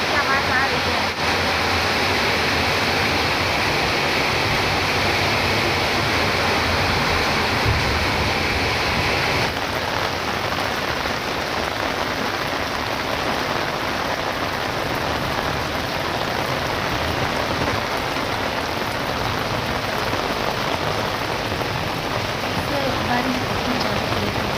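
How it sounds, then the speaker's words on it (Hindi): Heavy monsoon rain pours steadily on a rooftop, a dense, continuous roar that stays loud and unbroken throughout, with a brief shift in tone early on. "अचानक होने लगी झमाझम बारिश"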